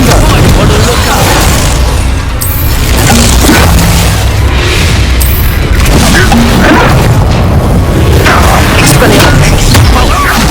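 Spell blasts and combat in Hogwarts Legacy, a dense, loud barrage of booming explosions, crashes and bursts with no letup, heard alone without talk.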